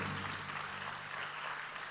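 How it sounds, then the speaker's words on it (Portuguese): A church congregation applauds during a worship service, a faint, distant wash of clapping that stays steady and even for the whole moment, with a low hum beneath it. "Dê um aplauso bem forte ao Senhor"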